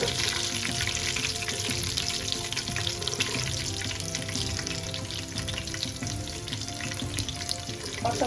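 Whole cumin, kalonji and coriander seeds frying in hot oil for a potato curry, a dense continuous crackling sizzle with fine popping, close and steady with no voices.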